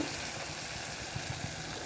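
Steady, fairly quiet frying sizzle with faint stirring clicks, continuous throughout with no talking.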